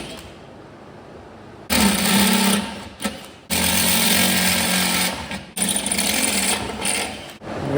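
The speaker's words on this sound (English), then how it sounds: "I'll be using a die grinder and whatever else is needed to make this hole" Die grinder enlarging holes in metal on a trailer, running in loud, sustained high-pitched bursts that cut off briefly and resume, close up with no talking.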